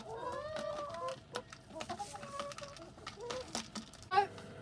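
Backyard chickens cluck and chatter in short, irregular bursts around an automatic feeder, fairly faint, with small pecking taps and a few louder calls near the end.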